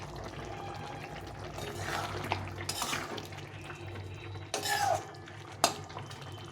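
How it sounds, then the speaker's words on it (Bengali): A spoon stirs jackfruit curry with garam masala in a pot, making several scraping and clinking strokes against the metal at moderate volume. A sharp clink stands out near the end, and no one speaks. "গুঁড়ো গরম মশলা দিয়ে একটু নাড়াচাড়া করে ঢাকা চাপা দিয়ে নামিয়ে দিতে হবে"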